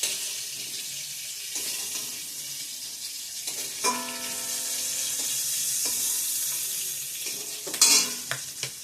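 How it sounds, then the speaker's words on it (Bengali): Cumin seeds sizzle as they are tempered in hot oil for a shrimp malai curry, a steady frying crackle with stirring clatter and a brief running-water splash near the end; no talking. "জিরা ফোড়নে দিয়ে দিলাম"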